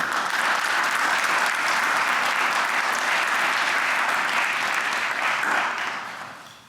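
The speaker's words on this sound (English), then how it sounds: "And I'd ask for a round of applause for that." A large audience at a pharmacy White Coat Ceremony applauds steadily, a dense, even wash of clapping that holds for several seconds before tapering off near the end.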